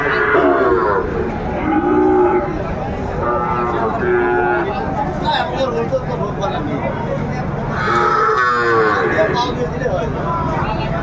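Sahiwal bulls mooing amid a busy crowd at a cattle market in Noakhali, with people talking throughout; several long, loud lows rise over the steady background chatter.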